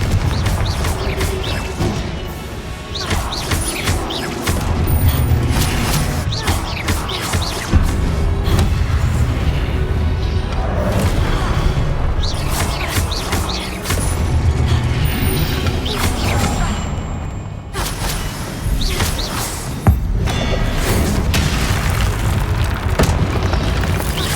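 Confringo explosive spell blasts in Hogwarts Legacy, heavy booming detonations and crashes rolling one after another in a loud, dense fight.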